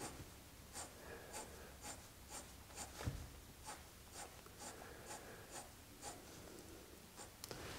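A pencil scratches parallel hatching strokes on paper, a quiet close rhythm of short evenly spaced scrapes continuing steadily with no talking.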